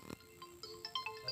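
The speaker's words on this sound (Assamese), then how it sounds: "ৰক্তিম দা ফোন কৰিছে" A phone ringtone plays in short, bright melodic notes at moderate volume, with a few pitched tones repeating over about a second and a half and no talk over it.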